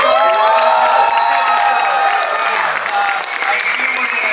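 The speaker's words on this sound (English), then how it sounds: "Let's give a round of applause to" Audience applause at a Santastein Q&A event, dense continuous clapping from a crowd filling the room, loud and sustained throughout, easing slightly toward the end.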